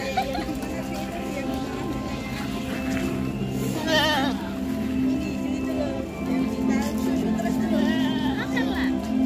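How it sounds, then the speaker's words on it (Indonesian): Merino sheep bleat at a farm-park petting area, several calls rising over steady crowd chatter and nearby talk, with one louder bleat standing out midway. "Ini domba merino"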